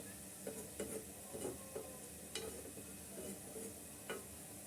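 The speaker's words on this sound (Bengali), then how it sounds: "আস্তে আস্তে করে চুলার জাল লো মিডিয়ামে রেখে ভেজে নিতে হবে" Jhuri pitha frying gently in oil over a low-medium flame, a quiet continuous sizzle broken by several soft, irregular clicks and scrapes.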